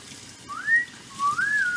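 Two rising whistled notes, each a smooth upward slide, clear and close against a quiet background.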